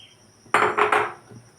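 Chopped raw green mango for homemade mango jelly tipped into a pan of water, heard as a few quick clattering splashes and knocks close by, then a faint tap as it settles.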